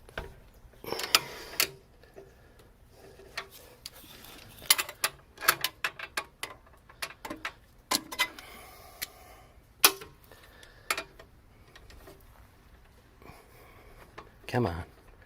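A wrench works on an axle nut during an axle replacement on a 2008 Astra, making scattered sharp metallic clicks and ticks in irregular bursts. A person talks intermittently over the clicking.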